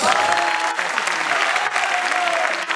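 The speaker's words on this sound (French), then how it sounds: "Est-ce qu'on peut applaudir pour le hip-hop" Crowd applauding at a hip-hop concert, loud dense clapping from a large audience with some crowd noise and a faint tonal sound underneath.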